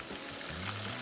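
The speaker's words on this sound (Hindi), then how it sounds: "थोड़ा सा पानी ये देखिए" A little water is poured into a cooking pot, a short, close splashing pour over a faint sizzle.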